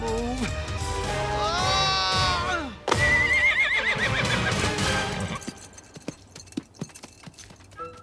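A horse whinnies loudly in an animated Aladdin film, two long wavering neighs in quick succession, then a few hoof clops and rustles as things quiet down.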